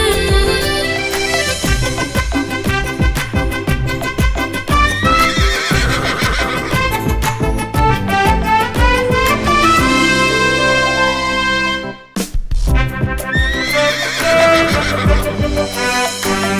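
Repeated horse whinnies ring out over rhythmic clip-clopping hooves, loud and close in a busy musical children's rhyme with a brief drop near the end.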